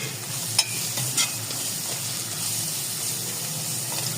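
Spices for daal mash stirred in a hot pan, a continuous close sizzle with a couple of sharp spoon scrapes and clinks near the start, no talking.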